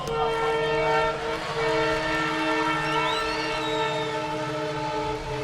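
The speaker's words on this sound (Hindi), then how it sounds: "वो पंचलाइन के समय रेल आ गई" A train passes nearby during an outdoor comedy poetry gathering, its horn holding a loud, steady multi-tone blast for several seconds over the rumble of the rolling cars.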